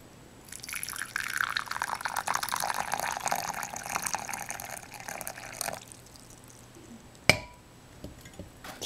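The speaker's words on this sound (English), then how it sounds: "Pouring the tea." Tea is poured from a teapot into a cup, a close trickling stream of liquid lasting several seconds before stopping, followed by a sharp clink of porcelain and a few small sounds, with no talk.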